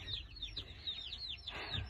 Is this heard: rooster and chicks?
yes